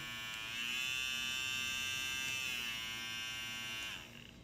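An electric shaver buzzes steadily at close range, its pitch rising as it speeds up, then winding down near the end.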